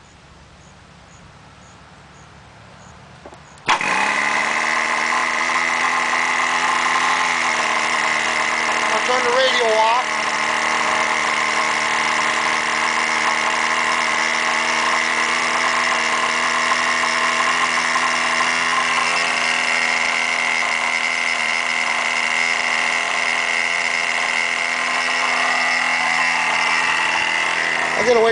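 Veco 19 glow engine on an RC model airplane bursts into life after a quiet start, then holds a loud, steady, high buzzing whine with slight pitch shifts; someone speaks briefly before it fires.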